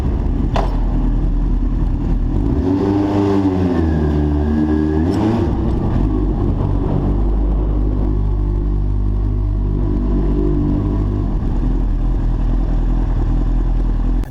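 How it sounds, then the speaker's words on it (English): A 2001 Yamaha R1 sportbike is ridden at speed, its engine a loud steady roar with a rising then falling rev sweep early on, heard up close over constant wind rush. "It only takes a small twist of the throttle and you're doing 80"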